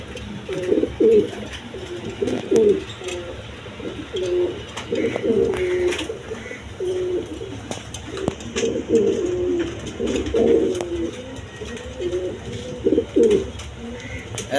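A pair of Lahori pigeons coo in repeated soft, throaty phrases close by, with steady background murmur underneath throughout.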